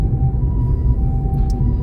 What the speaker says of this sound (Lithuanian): Greitoji už manęs.